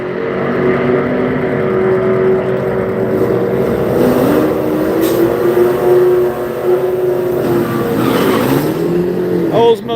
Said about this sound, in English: Oldsmobile pulled the wheels off the ground and picked them up a second time, running 10 seconds at 130